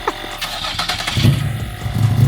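An Infiniti G35 engine cranks and catches, a short starter whir building into a rough, low idle, loud and close by with no talk over it.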